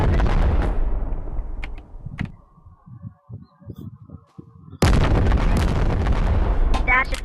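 Loud RPG blasts and explosions in the VR game Animal Company open the clip, die down to a quieter stretch of scattered sounds, then erupt again in another heavy roaring burst near the end.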